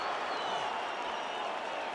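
Stadium crowd at the Currie Cup rugby final between the Lions and Griquas cheering and applauding after a Lions turnover, a broad steady roar with scattered clapping, loud and continuous.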